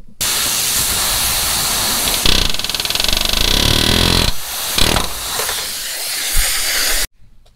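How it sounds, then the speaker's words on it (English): An air hammer drives the top door roller pin out of a two-door Chevy Tahoe's door hinge, a loud continuous rattling hiss in long bursts with brief pauses and a final sharp cutoff. "get the air hammer, and drive this top roller pin out"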